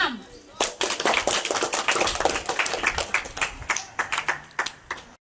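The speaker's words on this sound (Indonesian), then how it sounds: "Kasih aplaus untuk kelompok 6" Classroom applause for a student group after their water-wheel project presentation: a burst of hand clapping from several pupils, dense at first, then thinning into scattered individual claps.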